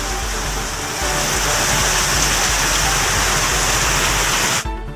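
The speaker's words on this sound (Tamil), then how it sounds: "ஒரு மணி நேரத்திற்கு மேலாக இடி மின்னலுடன் கனமழை பெய்தது" Heavy rain pours down in Arani, Tamil Nadu, a loud, dense, continuous roar of water that ends abruptly near the finish.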